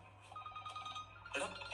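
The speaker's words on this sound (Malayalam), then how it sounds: "ഇത് ഷാജി സാറിന്റെ ഫോണിലേക്കാ നീ വിളിക്കുന്നത്?" A telephone ringtone in a scene from the Malayalam comedy film Padakkalam, a quiet, repeating tonal chime with voices talking over it.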